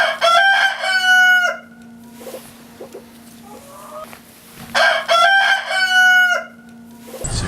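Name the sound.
rescue chickens and rooster crowing at farm sanctuary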